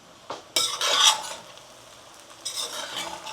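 Sabudana khichdi, a sour tapioca-pearl dish, is stirred in a pot with a metal spoon: two busy bursts of scraping and clinking against the pot, a quieter stretch, then more scraping near the end. No one talks.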